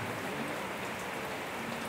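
Steady rain falls continuously, a dense even hiss of drops on a surface with no voices, at a place of Islamic religious gathering.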